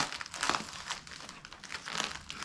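Crinkly plastic packaging bags from a windscreen kit for a Honda ADV150 scooter rustle and crackle up close in repeated handling bursts as they are unpacked.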